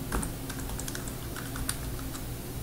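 Quick, irregular keystrokes on a computer keyboard as a username is entered at a forum login, a steady run of close, crisp clicks with no talking.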